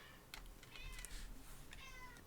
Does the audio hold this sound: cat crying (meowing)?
yes